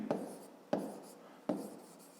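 Pen strokes on paper during a fifth-grade maths exercise, three short scratchy bursts spaced about evenly, each fading quickly, close and fairly quiet with no voice.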